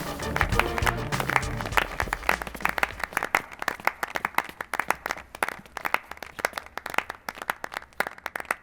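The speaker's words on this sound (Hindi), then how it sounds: "कोई बहुत बड़ी जीत हासिल करके लौटे हो इसीलिए हम ताली बजा रहे हैं" A group of people clap steadily and loudly at close range for several seconds, dense overlapping hand claps with a brief bit of background music at the start.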